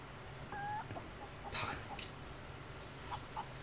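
A chicken clucks in the space game Breathedge, a few short faint clucks and squawks scattered over a quiet, humming background.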